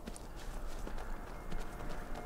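Horse hooves gallop in the Skyrim video game, a quick, steady clip-clop rhythm of close, moderately loud hoofbeats running throughout the short stretch.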